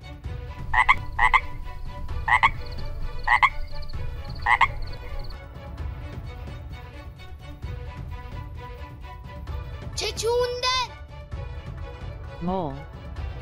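A toad or frog croaks loudly and close in a rhythmic run of separate calls, followed later by a few different, higher calls.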